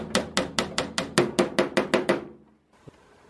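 Eleven quick hammer taps drive small, very fine nails into the frame of a homemade solar oven, struck in a steady brisk rhythm close by, then stopping, followed by a faint knock after a short pause.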